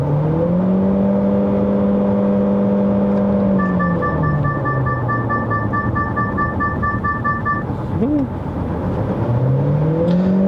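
A Chery Tiggo Cross 1.5 HEV hybrid SUV accelerates in Sport Mode, giving a rising, falling engine and motor drone from inside the cabin, with a short steady electronic tone in the middle and a brief chirp near the end.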